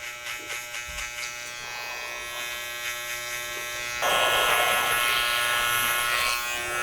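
Electric hair clippers buzz steadily over a comb while cutting curly hair, with short clipping pulses early on and then a louder, brighter buzz as the blades bite into the hair close to the mic.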